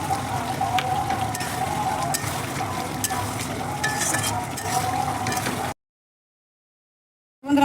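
Soft crackling sizzle of onions frying in a pan, with scraping stirs throughout, then a sudden drop to silence before the sizzle briefly returns.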